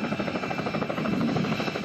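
A rescue helicopter arrives during a snow rescue drill, its steady, loud rotor thrum and turbine roar filling the whole stretch without any voices.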